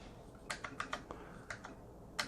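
Key presses on a Corsair K60 gaming keyboard with tactile switches, a string of crisp, close clicks in uneven bursts, about nine strokes spread over two seconds with no voices.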